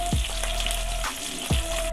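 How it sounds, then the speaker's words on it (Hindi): Onions fry to brown in a pan for spicy dhaba-style aloo gobhi, a steady close sizzle broken by a few sharp scraping stirs, with no talking. "तो प्याज ब्राउन कर लूँ मैं"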